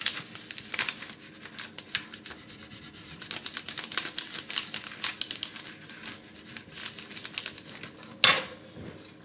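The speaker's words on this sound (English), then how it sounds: "sort of give it a rub like this. With the edge of the spoon." The edge of a spoon rubbed firmly back and forth over a label or paper surface during home white wine making, a steady scratchy scraping close by that ends with a sharper scuff.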